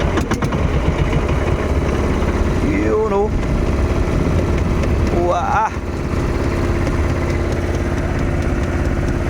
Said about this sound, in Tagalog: Patayin natin makina.